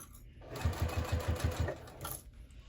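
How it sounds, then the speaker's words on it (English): A sewing machine stitches a crossbody bag in a short quick burst of rhythmic thumping needle strokes, close and clear, then slows and stops. "Just sew a little bit and pull off my clips as I go."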